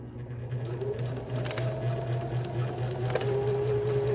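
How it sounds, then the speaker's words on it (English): Home sewing machine stitching a zipper pouch, a steady close motor whir with rapid needle chatter running continuously, with a couple of brief higher clicks partway through. "I'm gonna sew all the way down"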